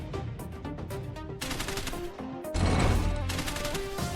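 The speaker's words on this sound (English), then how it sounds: "We have the low-cost but reliable machine gun" Low-cost machine gun turret in the tower-defense game Decimation firing rapid repeated shots that grow louder and denser midway, over steady game music, with no voices.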